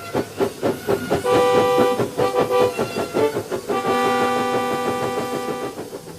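A steam engine runs along railway tracks with a steady chuffing beat and rail clatter, while a sustained, tonal steam whistle sounds over it twice. No voices.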